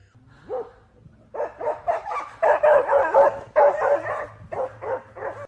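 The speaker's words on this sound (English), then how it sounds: "The dog's scared barks and the wolf's haunting howls made a mysterious sound" A frightened dog barks and yips in quick, close bursts in quiet woods, with a short whimper before a steady run of sharp, loud barks.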